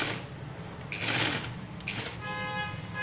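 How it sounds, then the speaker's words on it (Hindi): A sewing machine stitching umbrella fabric runs with a soft, steady mechanical whirr that rises in brief bursts and tapers off near the end, fairly quiet and with no voices over it. "इसलिए सिलाई हम खींच के लगा रहे हैं ताकि टांके जो सिलाई है"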